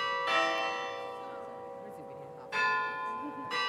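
Church bells in a bell tower ring out in clear, resonant strikes with long ringing tails. A fresh peal comes in about every few seconds while a voice speaks faintly underneath.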